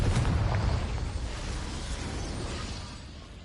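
A Confringo spell explodes in Hogwarts Legacy with a booming, crackling burst at the start that fades into a long rumbling, debris-like tail, with no talk over it.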